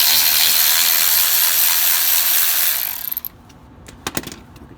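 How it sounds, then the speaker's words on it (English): Ratchet with a 10mm socket removing a nut on a 2011-2019 F-150 3.5 EcoBoost, a fast loud clicking run for about three seconds, then quiet with a few scattered metallic clinks, close and without talk. "Simply take a 10mm socket and remove that nut."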